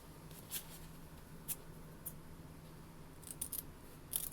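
Sewing scissors trim the seam allowance on a skirt, a series of small, sharp snips at an uneven pace, soft and close in a quiet room.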